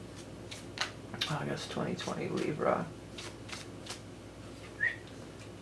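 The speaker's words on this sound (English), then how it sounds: "I'm going to shuffle that up for our Libra friends." A deck of animal totem cards is shuffled with soft, papery riffling bursts through the first three seconds, mixed in with a voice talking.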